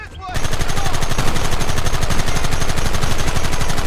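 Rapid, continuous automatic gunfire in a Red Dead Redemption shootout, loud and dense after a brief quiet start, with a faint shout near the beginning.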